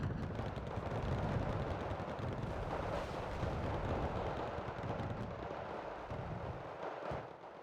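Sustained gunfire from a fire-support unit in the video game Wargame: Red Dragon, a dense rolling rumble of rapid distant shots that holds steady without pause and fades slightly at the end.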